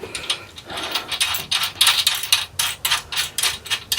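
Ratchet tightening bolts on a 350 Turbo transmission in a 1964 C10, rapid close clicking in repeated bursts of strokes, crisp and fairly loud, without speech.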